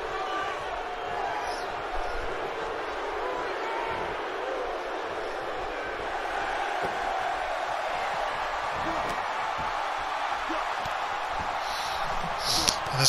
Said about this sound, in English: this crowd finally showing some support for this match